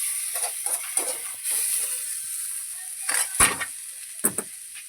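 Onions and chillies fry in a pan, giving a steady high sizzle with brief louder bursts of crackle and stirring clatter, close by and without talk.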